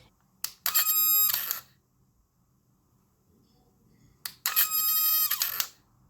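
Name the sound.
electric motor mechanism of homemade retractable webshooter working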